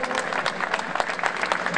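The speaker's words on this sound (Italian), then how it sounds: "ecco qua è arrivata Giorgia Meloni, un applauso." Applause from a crowd at an outdoor political rally in an Italian town square, steady dense clapping throughout, fairly close and loud.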